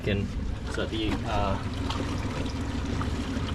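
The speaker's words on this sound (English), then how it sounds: "all this water comes out over here, and it's high enough to spew it into the splash bowl" Water spews from a new Suzuki outboard engine into a splash bowl, a continuous splashing trickle heard close by while someone talks over it.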